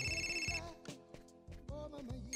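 A telephone rings in the Fahrenheit (Indigo Prophecy) video game: a couple of bright, electronic bell-like rings over soft game music, close and clear.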